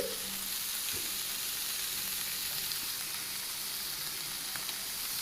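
Rice with ginger-garlic paste, salt and garam masala for baby corn pulao is stirred in a hot pan, giving a constant soft sizzle with a few faint scraping touches and no talk.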